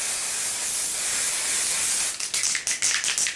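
Hair colour spray paint hisses from an aerosol can in a long continuous burst, followed by several short, sharp puffs close to the microphone.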